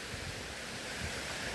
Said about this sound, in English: hearing the water